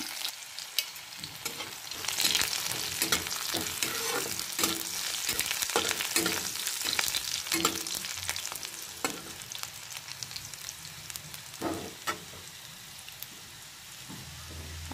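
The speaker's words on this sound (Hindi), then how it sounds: "हींग जल जाने के बाद हम इसमें लहसुन और कटा हुआ हरी मिर्च डाल दे रहे हैं।" Garlic and chopped green chilies dropped into hot oil with asafoetida, frying for sahjan saag dal with a steady crackling sizzle and occasional stirring scrapes, close and continuous with no talk.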